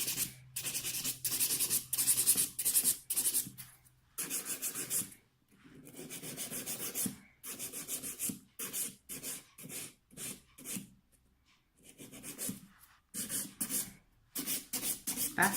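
Buffing hardened polygel nails with a file, rapid rhythmic scratchy rubbing strokes in repeated bursts with brief pauses, very close and fairly quiet with no speech.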